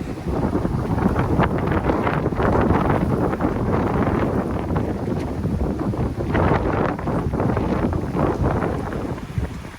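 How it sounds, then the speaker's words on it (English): Strong wind gusts on a trail in Linville Gorge buffet the microphone in loud, rushing gusts that swell and ease, a dense roar throughout with no voices. "We're getting like really strong gusts, and then it's completely calm."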